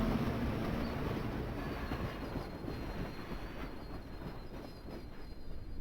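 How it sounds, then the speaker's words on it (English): Train station ambience from the Professor Layton and Pandora's Box video game: a low, steady rumble of rolling rail cars, continuous and moderately loud with no voices. "That's an interesting train station."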